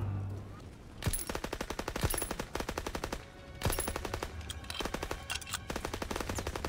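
Machine-gun fire in a Call of Duty: WWII veteran-mode campaign: close, loud bursts of rapid shots about a second or more long, with short pauses between them.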